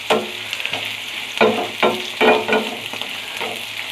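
Food frying and browning in a pan, a steady sizzle with several louder bursts as it is stirred, close and alone.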